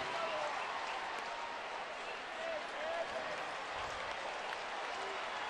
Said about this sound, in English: And the crowd applauding the efforts of Shin-Soo Choo.